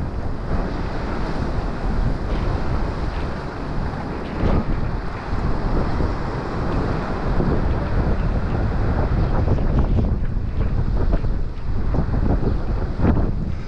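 Gale-force wind buffets the microphone on the Paphos seafront, a loud, continuous roar with gusty swells and surf-like rushing throughout, with no talk.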